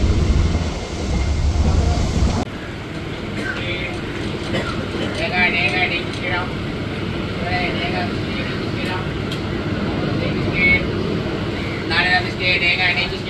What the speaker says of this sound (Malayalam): എങ്ങനെയുണ്ട് യാത്ര ട്രെയിൻ യാത്ര ശ്രേഷ്ഠ